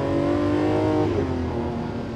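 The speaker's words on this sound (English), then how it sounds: "that very familiar V12 noise that we know and also love" A Lamborghini Countach LP800-4 V12 engine with a Gintani exhaust idles and revs with a deep, smooth multi-layered drone, the pitch dipping as the revs settle, loud and close.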